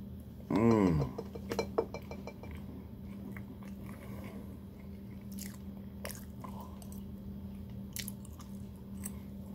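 Close, crunchy bites and chewing on a slice of chocolate chip cake from a bakery, with a brief vocal sound near the start and a faint steady hum underneath.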